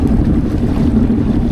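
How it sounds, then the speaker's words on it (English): A Sea-Doo Spark Trixx personal watercraft rides on the sea, a steady close engine drone mixed with rushing wind and water noise, continuous and loud. "I'm having a blast just driving around on my brand new ski"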